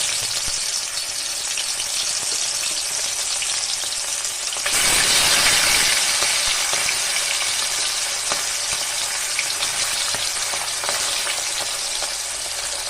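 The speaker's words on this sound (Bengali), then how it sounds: "তেলটা গরম হয়ে গেছে, সবসময় তেলটা গরম হয়ে গেলে মাছটা দিবেন, হালকা করে ভেজে নেব" Hilsa fish drops into hot mustard oil, and a loud hissing sizzle surges, then settles into steady, close crackling frying.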